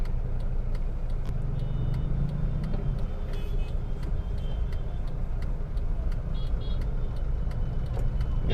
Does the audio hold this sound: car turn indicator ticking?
yes